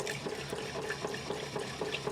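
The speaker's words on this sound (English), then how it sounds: "So that's on a push on switch, so when you let go of it, it doesn't keep the water running." Water runs from a push-button tap in a Volkswagen Transporter T5 camper van, a steady splashing stream with small rhythmic gurgles, close and fairly loud with no talk.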